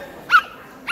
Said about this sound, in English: just look at the little dog is here.